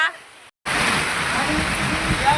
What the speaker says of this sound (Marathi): खूप जास्त मस्त अस रप रप रप रप पाऊस पडू राहिलाय पहा